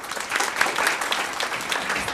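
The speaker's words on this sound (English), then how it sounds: "round of applause" A round of applause from the audience at a state Senate committee hearing, honoring students who testified for a bill naming the blueberry the official state fruit. Steady, dense clapping fills the whole stretch at an even level.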